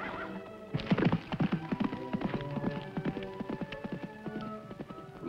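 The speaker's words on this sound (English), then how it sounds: "From the sound of those hoofbeats" Horse hoofbeats from a 1950s TV western: a rhythmic clip-clop of hooves, fairly close and moderately loud, with a horse's whinny and other stable sounds mixed in.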